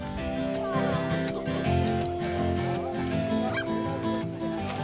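Several dogs at a local park barking and yipping excitedly, with whimpers mixed in, close and loud over a busy outdoor background, with faint voices underneath.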